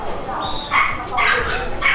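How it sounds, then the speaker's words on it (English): XL Bully dogs in a busy Thai market give short yips and whimpering barks, heard close amid a noisy crowd, with people talking throughout. "Loads of dogs in here. Loads of dogs. This is XL Bullies"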